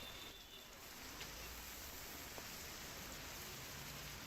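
Heavy monsoon rain pours steadily over Badlapur near Mumbai, a dense, even hiss of falling water and drops on surfaces that stays constant from start to finish with no voices.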